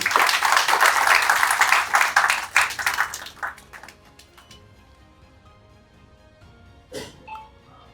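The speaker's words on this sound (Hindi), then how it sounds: "तो वाकई एक बार चेंबर के लिए और GFRRC के लिए जोरदार तालियां होनी चाहिए" An audience at a textile industry event gives a burst of loud clapping that tapers off after about three seconds into a quiet room with a few stray sounds.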